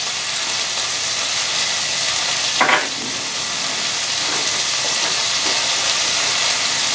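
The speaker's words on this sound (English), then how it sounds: "So I just kind of want to stir around the oil" Oil stirred in a hot pan with a small, hard silicone spatula while ground beef stroganoff cooks, a steady loud sizzle with a brief scraping stir partway through.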